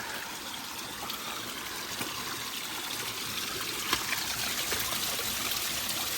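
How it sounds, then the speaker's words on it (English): Spring water trickles steadily out of a hillside beside a Red River Gorge hiking trail, a continuous close babbling flow with no voices. "Looks like a good water source right here coming right out of the"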